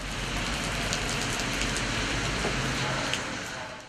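A rain shower in Erzurum city centre, Turkey, a steady dense hiss of rainfall on streets and surfaces, continuous and fairly loud outdoors with low traffic-like rumble beneath.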